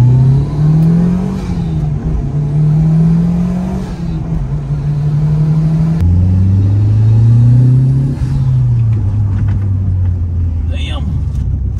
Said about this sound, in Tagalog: Ito yung 4G63 Turbo ng Evo 4